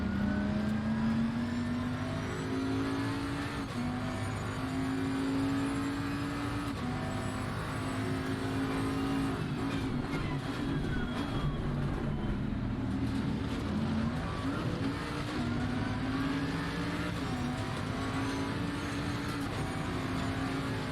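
Race car engines in a sim racing game on the short Zolder circuit, a steady loud engine drone with gear-like pitch shifts lifting and falling throughout, with no talk.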